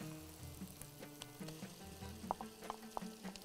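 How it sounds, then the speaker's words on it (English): Tomatoes hit a hot pan of frying oil and sizzle steadily, with a few sharper pops and stirring clicks toward the end, faint and close. "Now I'm going to add the tomatoes."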